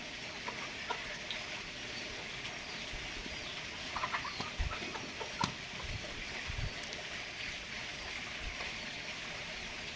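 Chickens cluck softly and sporadically over a steady outdoor hiss in a village, with occasional pecking taps and brief scratches nearby as they feed on rice.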